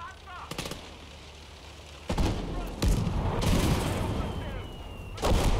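Mounted machine gun fire rattles in the World War II game Call to Arms – Gates of Hell, with sharp loud bursts and booming impacts rising over the battle noise. Players talk over it.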